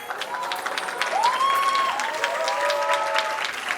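Korean crowd applauding and cheering at a junior 10m air pistol mixed team final at a shooting world championship, steady dense clapping with rising whoops and shouts over it.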